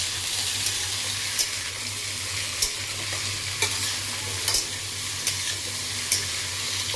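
Pumpkin and potato fry in a pan with a dried red chilli tempering, giving a steady close sizzle. Light scrapes of stirring come at intervals.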